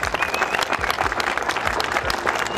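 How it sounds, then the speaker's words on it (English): Loud, dense applause from a crowd at a disc golf tournament awards, steady clapping throughout with some cheering mixed in. "give a big applause to our winners and top three competitors"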